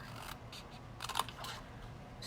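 Scissors snip through a cardstock tag topper in a few quick, close, faint cuts, with a small crisp cluster of snips near the middle.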